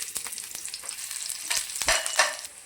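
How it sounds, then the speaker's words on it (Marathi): Chopped onion frying in a spoonful of oil, close crackling sizzle with a few stirring scrapes that grows louder near the end, with no voices. "तर त्याच्यामध्ये आपण कांदा फ्राय करून घेऊया."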